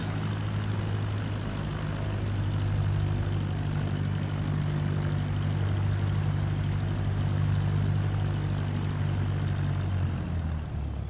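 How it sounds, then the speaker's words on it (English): Propeller aircraft engine in Microsoft Flight Simulator 2024, a steady droning hum with strong low tones held for the whole stretch, loud and close, dropping slightly at the very end. "Turn the engine down, you'll coast for a while."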